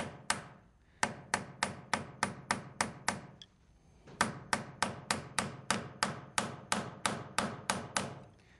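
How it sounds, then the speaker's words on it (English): Forging hammer taps silver wire in quick, evenly spaced metallic strikes, about a dozen in a row, a short pause, then another steady run of sharp, ringing blows, close and clear with no talk. "You go with light taps towards the center of the wire, and heavier taps towards the end"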